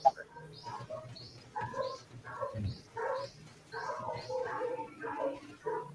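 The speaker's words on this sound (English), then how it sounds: "I hear all these dogs." Several dogs bark at a distance, with birds chirping and people talking nearby over the top.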